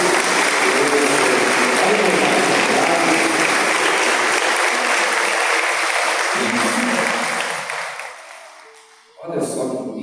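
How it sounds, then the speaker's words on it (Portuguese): Congregation in a church applauding a speaker, sustained steady clapping that fades out toward the end, followed by a voice beginning to speak. "Uma salva de palmas para ele."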